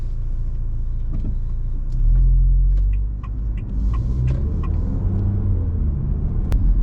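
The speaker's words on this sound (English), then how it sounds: "just going to go for a drive in the H6 GT" A 2023 Haval H6 GT being driven, heard from inside as a steady loud low road and engine rumble that swells briefly, with faint clicks over it and no talk.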